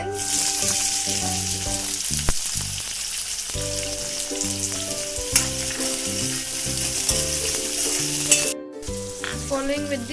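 Onions frying in hot oil with cumin seeds and hing, a loud steady sizzle with occasional stirring clinks in a home kitchen, no voices.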